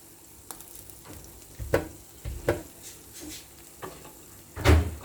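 Garlic goes into seared meat in a pan, giving a low sizzle broken by a few sharp clinks and knocks of stirring, with one louder clatter near the end.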